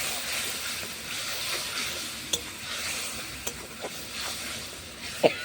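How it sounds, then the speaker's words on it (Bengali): Spice paste of turmeric, chilli powder and roasted cumin and coriander powders with a little water is sautéed in a pan, giving a steady close sizzle with a few sharp scrapes and clinks from stirring. "ভালো করে মশলাটা কষে নেব।"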